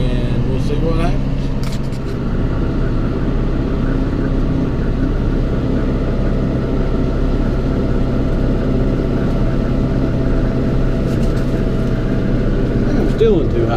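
A John Deere 5R tractor engine drones steadily while bush hogging, a loud, unbroken low rumble that holds throughout with someone talking over it.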